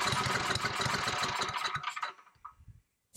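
A generator engine under repair runs roughly after being choked, chugging loudly and unevenly up close, then sputters and fades out briefly before catching again at the very end.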